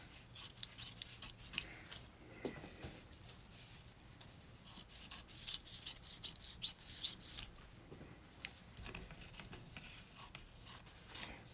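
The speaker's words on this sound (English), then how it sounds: "now I'm going to trim it around the edges" Scissors snip along the edges of quilt batting for an in-the-hoop quilted flap purse, a quiet run of short, irregular cuts and rustles, close and faint, with no talking.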